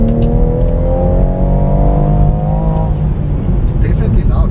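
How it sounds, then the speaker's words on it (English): A BMW M240i F22 in sport mode revs loudly and steadily as the engine pulls, a dense continuous drone heard from inside the car, with faint talk near the end. "Okay, so in sport, let's see if we hear a difference."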